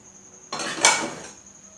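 A spoon stirs chicken and beef sandwich filling together in a bowl, giving one brief, close clatter of metal against the dish before quiet returns.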